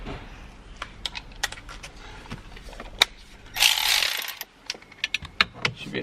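A Milwaukee impact tool rattles in a loud, sustained burst as it loosens a Loctite-seized 10mm nut during steering wheel removal on a Mercedes W220 S-Class, with sharp metallic clicks and taps before and after.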